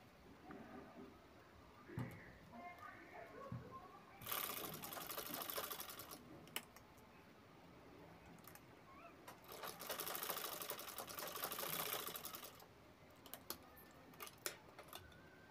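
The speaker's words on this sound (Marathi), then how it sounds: "ती पट्टी कंप्लीट आपल्याला असा अर्धा गोलमध्ये शिवून घ्यायची आहे." A domestic sewing machine stitches a fabric strip in a half-circle for a jewelry bag, running in two steady whirring bursts separated by a pause, with small taps and handling clicks between, fairly quiet and without talk.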